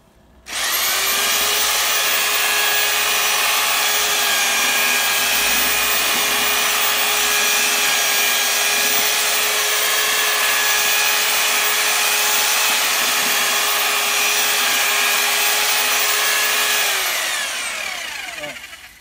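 A power mixer churns Otterbein Naturkalk CL80 lime in a drum, a loud steady motor whine with grinding texture that starts abruptly, holds constant, then winds down near the end.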